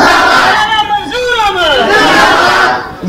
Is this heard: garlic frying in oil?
no